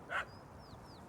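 A single short dog bark from the video game Little Kitty, Big City, fairly faint against low background noise, followed by a few thin, high chirping tones.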